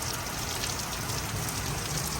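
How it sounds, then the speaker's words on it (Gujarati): Steady downpour of rain in Gujarat during a lightning storm, a continuous even hiss of water falling on surfaces, no voices. "ધોધમાર વરસાદ વરસી રહ્યો છે"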